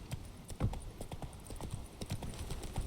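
Roach the horse gallops in The Witcher 3 video game, a steady, rhythmic run of hoofbeats continuing throughout at a moderate level, with no talk.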